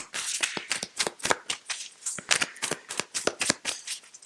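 Tarot cards riffle and snap in rapid bursts close by, a crisp shuffling clatter that stops and starts irregularly, with no voices over it.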